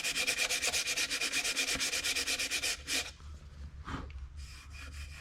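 Hand sanding on a wooden ukulele body: rapid, even back-and-forth rasping strokes for about three seconds, then a few slower scattered rubs, close and steady.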